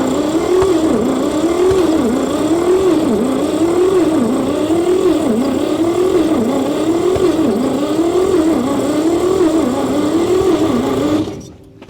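Engine of an abandoned 1959 Chevy pickup being cranked, a loud, steady, rhythmic starter whir with pulsing compression beats that never catches, running about eleven seconds before stopping abruptly.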